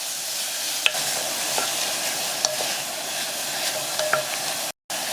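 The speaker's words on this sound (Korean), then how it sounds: "불을 약하게 해서 고기를 볶아주세요." Minced beef stir-frying in a pan on low heat, a steady close hiss of sizzling fat with faint scattered pops and light scraping, continuing unbroken apart from a brief cut near the end.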